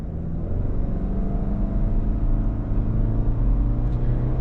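A 2023 Subaru Legacy Premium pulls away from a stop, its engine a low steady drone with a gradual rising hum, heard from inside the car at moderate level.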